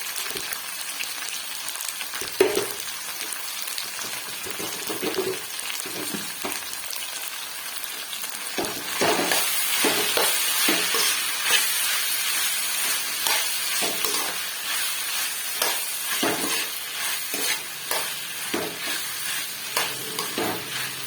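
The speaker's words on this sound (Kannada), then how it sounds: "ಇದು 1-2 ನಿಮಿಷ ಚೆನ್ನಾಗಿ ಫ್ರೈ ಆಗಲಿ." Okra and tomato curry, salted, fries in a pan with a continuous crackling sizzle that swells midway, broken by soft stirring scrapes and no talk.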